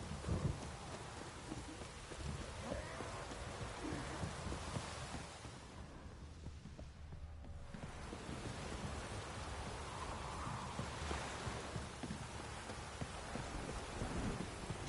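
Steady rainfall in The Witcher 3, a soft, continuous hiss of drops with faint low rumbles beneath, dipping briefly midway before resuming at a gentle, even level with no voices.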